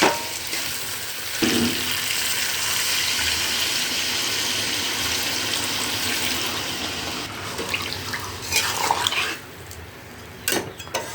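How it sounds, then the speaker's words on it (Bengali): Water is poured into a pot of braised chicken and potato curry, a steady rushing pour that runs for several seconds before tapering into lighter splashes and clinks near the end, with no talking. "এখন আমি জল দিয়ে দিচ্ছি"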